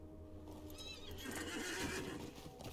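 A horse whinnies while mounting up in the video game LOTRO, a loud rising neigh with hoof clip-clop beneath, rising over game ambience and fading near the end.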